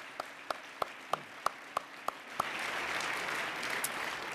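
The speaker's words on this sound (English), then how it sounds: "so let's give a round of applause to Heidi Collins." Audience applause at a fundraising dinner begins as a few evenly spaced single claps, then swells into a broad, steady wash of clapping from a large crowd.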